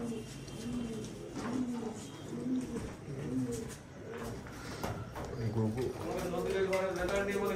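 Imported Malai pigeons in a loft coo repeatedly in low, rolling phrases that keep going beneath nearby people talking.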